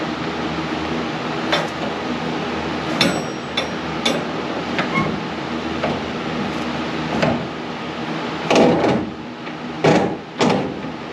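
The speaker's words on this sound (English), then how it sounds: "I'm going to shut the doors" The heavy doors of a wood-drying kiln loaded with boiler wood are pushed shut, with a series of loud metallic bangs and clunks at irregular intervals over a steady fan-like hum.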